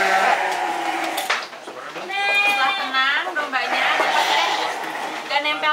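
Sheep bleat repeatedly, wavering and loud, while being weighed one by one for Qurban, with people talking throughout and a busy farm-yard background.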